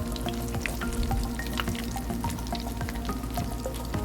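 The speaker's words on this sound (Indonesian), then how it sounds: "goreng roti tawar kroketnya hingga kecoklatan" Korean-style croquettes of white bread frying in oil, a steady close crackle with scattered pops and small bursts running continuously and alone throughout.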